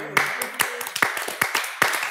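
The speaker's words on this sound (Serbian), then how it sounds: "Mlaki aplauz, u stvari," A small studio audience gives a short, lukewarm round of scattered claps, each clap sharp and separate, with speech faintly under it.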